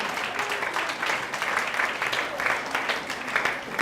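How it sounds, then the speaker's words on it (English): A crowd claps steadily and densely for a team member at the Young and Pure Pink Tour event in Ajegunle, the applause sustained and fairly loud throughout. "Please help me clap for her."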